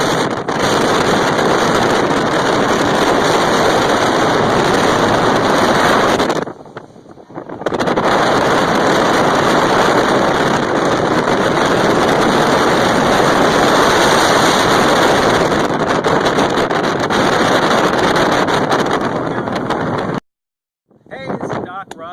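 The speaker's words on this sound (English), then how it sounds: "The wind's blowing pretty hard" Strong wind gusting across open water near a Long Island shore at Jones Beach State Park, a loud, steady roar of buffeting broadband noise lasting most of the clip, with two brief lulls.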